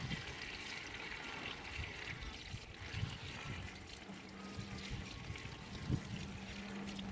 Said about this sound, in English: And we'll fill it up with water.